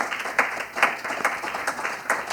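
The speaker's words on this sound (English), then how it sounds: "Give them a round of applause for being here tonight." An audience at a Kansas City jazz panel event gives the musicians on stage a round of applause, a moderate wash of clapping with a few louder claps standing out near the microphone.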